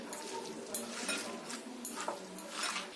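Garlic and ginger paste being mixed by hand into a gram-flour fritter batter in a bowl, with soft, irregular squelching and scraping, faint and close, alone.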